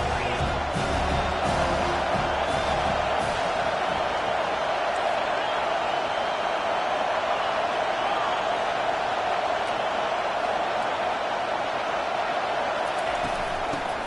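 Home crowd at a college football game, Texas at Miami, roaring as the defense tries to get off the field on third down: a steady, broad wash of stadium cheering that holds for the whole stretch, with a commentator talking over it.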